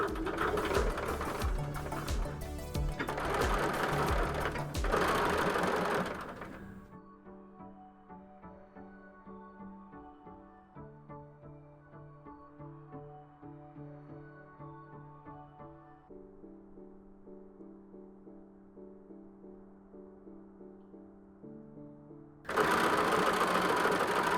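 Sewing machine stitching a fabric book cover, rapid rhythmic mechanical whirring and needle clatter running steadily for most of the stretch, with a louder burst at the start and end.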